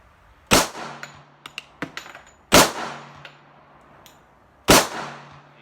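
Three loud, sharp pistol shots from an Auto Ordnance 1911 A1 firing 230 grain ball ammo on a range, spaced about two seconds apart. Each crack echoes briefly, and lighter metallic clinks of ejected brass fall between them.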